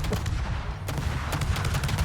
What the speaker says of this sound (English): It's destroyer caliber guns